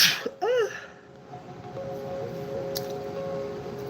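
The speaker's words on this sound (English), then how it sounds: "I'm going to sneeze." A single sharp sneeze bursts out near the start, close and fairly loud, then fades into a steady low background hum with a faint tonal whine.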